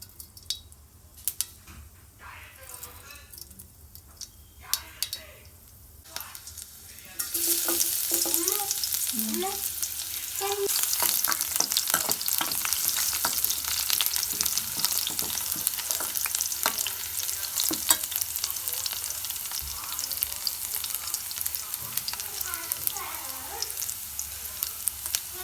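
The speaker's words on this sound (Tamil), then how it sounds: "எண்ணெய் கொஞ்சமாக ஊற்றிக்கிறேன். கொஞ்சமாக கடுகு போட்டுக்கிறேன்." Mustard seeds fry in a little oil for a cauliflower upma, with quiet handling at first, then a loud, dense, steady sizzle and crackle that carries on for the rest of the clip.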